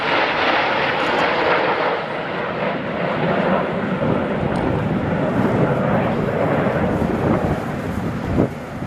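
Red Arrows jets fly in formation at an airshow with smoke on. A loud, continuous broadband jet roar fills the whole stretch, with wind buffeting and a voice talking underneath.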